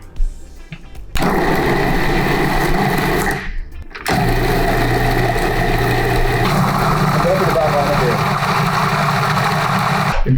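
A blender pulses a jerk chicken marinade made without Scotch bonnet peppers, giving two loud, sustained motor whirs separated by a brief stop.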